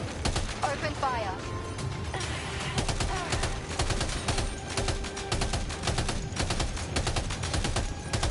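Dense, sustained bursts of automatic gunfire rattle from Death Stranding 2 gameplay, rapid overlapping shots filling the whole stretch at a steady loud level with scattered higher clinks and no pause.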